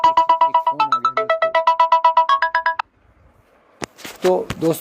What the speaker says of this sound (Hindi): एक फ़ोन आ गया